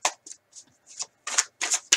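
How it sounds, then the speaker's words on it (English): Tarot cards are shuffled in quick, close bursts, a run of crisp riffling rustles separated by short pauses. "I'm going to pull some cards here"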